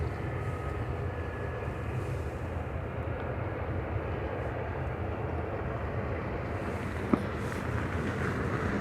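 An airliner from Gran Canaria taxiing at Manchester Airport, a steady, broad engine roar mixed with wind noise that holds level throughout, with no clear talking.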